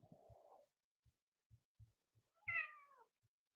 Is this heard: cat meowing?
yes